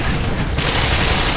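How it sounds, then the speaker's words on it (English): A grenade launcher fires in the shooter Black Mesa, a loud dense blast with a booming rumble that fills the whole short moment and surges brighter partway through. "Just grenade launch them."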